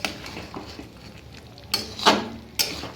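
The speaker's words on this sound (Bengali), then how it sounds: "তাহলে একটু নাড়িয়ে দিই মাংসটা" Chicken being stirred with whole onions in a cooking pot, giving soft scraping with a few sharper clinks of a utensil against the pot, close and fairly quiet with no talk.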